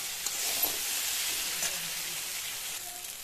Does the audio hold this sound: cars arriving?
no